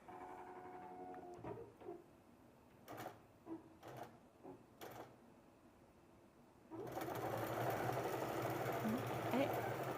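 A sewing machine on a quilting frame at a sewing festival starts up partway through and runs steadily and loudly to the end, after a stretch of quieter clicks and talking.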